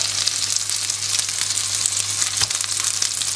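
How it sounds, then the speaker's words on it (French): Chicken patties fry in olive oil and butter in a pan, giving a steady, close, loud sizzle with a constant hum beneath it and one small bump near the end. "il faut finir la cuisson à la poêle"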